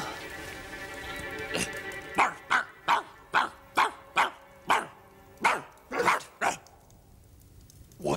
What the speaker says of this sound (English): Come here and bark a bit.